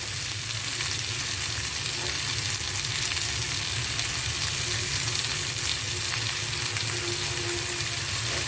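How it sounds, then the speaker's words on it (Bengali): Hilsa fish curry masala with green banana frying down in a pan, a steady close sizzle running throughout with faint stirring scrapes and no voices. "এখন আমি এভাবে এটাকে কিছুক্ষণ কষিয়ে নিচ্ছি।"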